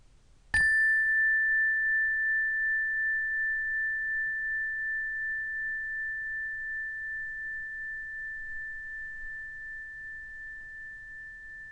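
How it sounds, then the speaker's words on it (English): A single bell is struck once, producing a clear pure ring that sustains and slowly fades over about eleven seconds in near silence. "pay attention to the sound of the bell"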